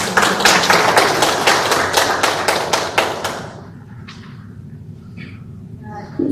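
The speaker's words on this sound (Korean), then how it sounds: "발표해주신 김종희 상관님께 다시 한번 박수 부탁드립니다" Audience at a workshop applauds a presenter with loud, rapid clapping for about three and a half seconds, then it stops abruptly, leaving a quiet room with a few faint sounds.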